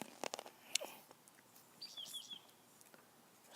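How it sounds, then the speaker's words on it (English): A bird calls outdoors at sunset with a few faint, brief chirps and a short run of high twittering notes over quiet rustling. "Some kind of bird."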